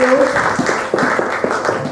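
Church congregation clapping and cheering in a steady, dense wash of applause, with voices mixed in throughout and rhythmic claps standing out.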